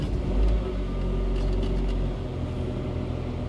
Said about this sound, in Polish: odpalę silnik